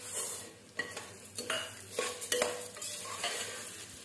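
Broken wheat and moong dal stirred in a pan over low heat, with a soft continuous sizzle under repeated scraping strokes and light clinks of the spoon against metal, close up and with no voices.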